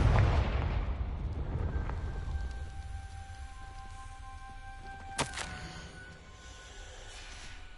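A Confringo fire-blast spell from the game Hogwarts Legacy bursts as one sharp, crackling hit midway, over a low rumbling game ambience with faint sustained tones.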